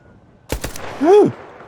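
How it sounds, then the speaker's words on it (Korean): Gunfire in the shooter video game Arc Raiders: two sharp close shots in quick succession, followed by a short rising and falling tonal sound. "총소리 들었어요"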